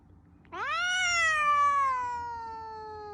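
A single drawn-out cat meow, loud and close, rising at the start and then slowly trailing off over about two and a half seconds, with no talking.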